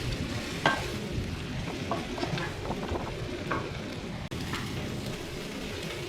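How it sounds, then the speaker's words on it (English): Cauliflower (gobi) coated in masala fries in a pan over a medium flame, giving a steady low sizzle with soft stirring scrapes throughout and no talking. "So now we will fry this at a medium flame for about 7 to 8 minutes."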